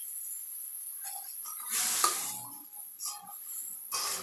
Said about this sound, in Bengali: এখন আমি আগে থেকে কেটে রাখা টমেটোগুলো দিয়ে দিচ্ছি।